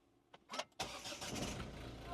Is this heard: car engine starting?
yes